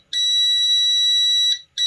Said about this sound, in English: Beep sounds.